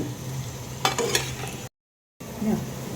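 Potatoes and eggplant frying in a pan with oil, a steady close sizzle and crackle broken by a few stirring scrapes, with a short silent gap before the frying resumes.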